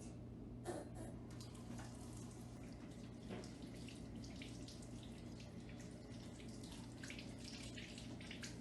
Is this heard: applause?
no